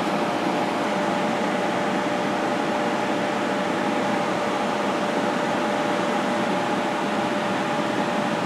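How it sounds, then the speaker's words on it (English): A paint booth blower fan runs steadily, a loud, constant broadband whoosh with a faint tonal whine and no pauses or voices throughout. "What I've been finding is there's some really good suction on this thing. It's a really good blower."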